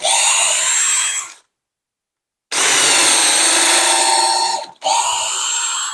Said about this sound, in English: Repeat the drilling again.